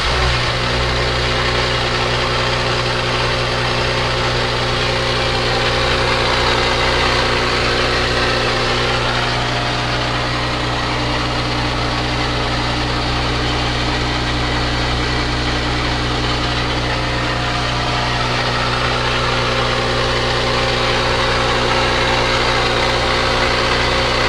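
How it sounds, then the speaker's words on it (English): The onboard generator of a 1993 Sea Ray 330 Sundancer boat runs at a steady idle, a loud, even engine drone with constant low hum and vibration that holds unchanged for the whole stretch, with no voices. "And here we have our generator, and I'm with the owner, and he's going to fire it up for us so you guys can see her run."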